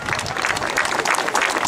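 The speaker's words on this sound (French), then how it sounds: "je vous demande s'il vous plaît d'applaudir la mémoire de René Guignot" Audience at a tournament opening ceremony applauding in memory of René Guignot, loud, dense and sustained clapping from a crowd filling the whole moment, with no speech over it.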